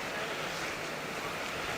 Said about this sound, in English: you can hear the falls from here, which is really cool